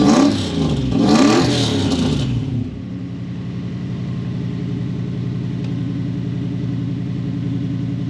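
A Toyota 1UZ non-VVTi V8 engine revs loudly for a couple of seconds. It then settles into a steady, even idle rumble, close up with no voices.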